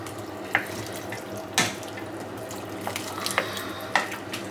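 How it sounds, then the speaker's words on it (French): Running water pours into a one-pot pasta in a home kitchen, a steady gentle splash with a few brief clinks and taps, close and fairly quiet. "Allez, je vais mettre encore un peu d'eau."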